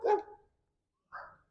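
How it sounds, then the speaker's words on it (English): Two short bursts of dog barking from a neighbouring yard, dogs reacting to a squirrel, heard at moderate distance with a clear pause between the barks. "Not my dogs, but my neighbor's dogs. They see a squirrel."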